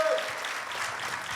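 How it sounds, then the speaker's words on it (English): A live audience at a conversation event applauds in a short, continuous burst of many hands clapping, fairly loud and filling the room. "Round of applause."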